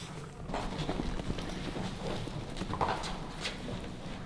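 Hooves of a young three-year-old stallion under saddle in a dressage training session, a steady rhythmic clip-clop of footfalls at moderate distance, fairly quiet against faint background noise.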